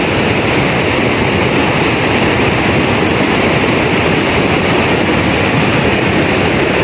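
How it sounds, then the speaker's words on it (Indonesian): Loud, continuous roar of floodwater rushing near Semeru at Sumber Langsep, with rocks tumbling in the torrent; a dense, unbroken rumble fills the whole stretch with no pauses. "Di sini tampak juga terdengar suara bebatuan ya,"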